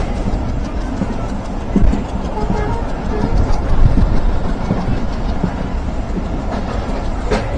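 The Kanchan Commuter, a local train bound for Panchagarh, rumbles steadily from close by with a continuous clatter of wheels on rail and no voices.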